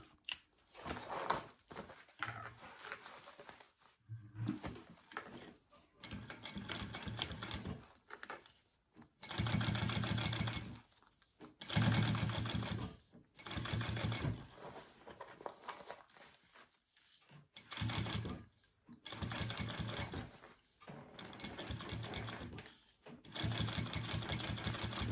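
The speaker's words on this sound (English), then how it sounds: "I'm gonna go ahead and sew this binding fold over elastic" A sewing machine stitching fold-over elastic binding onto a fabric sling: close, rapid needle chatter in repeated runs, broken by short pauses.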